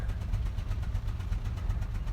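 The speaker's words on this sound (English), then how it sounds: "that just means that the whole engine is running really, really badly" Car engine idling roughly with a cylinder 4 misfire, a close, steady low rumble with an uneven, pulsing thump throughout.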